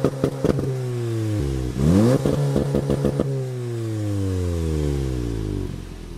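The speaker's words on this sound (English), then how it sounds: "Here we go, crackles and pops." Stage 1 tuned VW Golf R engine revving under acceleration, with several rising engine sweeps interrupted by sharp clattering exhaust crackles and pops close by.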